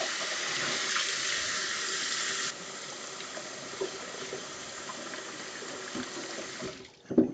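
Hot tap water runs steadily into a sink, a loud, even rushing stream that drops a little in level partway through, then ends with a few clunks and splashes.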